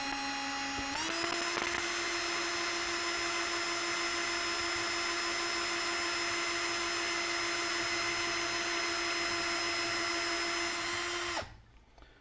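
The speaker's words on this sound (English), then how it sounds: "So I start with a 1/8 inch drill bit." A power drill with a 1/8 inch bit drilling metal whines steadily at a constant high pitch for about ten seconds, spinning up at the start and cutting off abruptly near the end.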